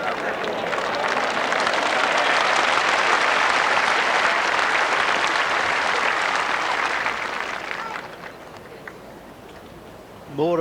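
Steady, dense applause from a crowd at the side of the green during the 1984 World Lawn Bowls Singles Final, loud for about eight seconds before thinning out, with a voice briefly speaking at the end.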